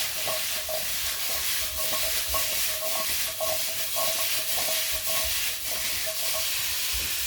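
Artichokes roast in a hot pan with a steady, fairly quiet sizzle and hiss, while faint scraping stirs recur throughout; nobody speaks.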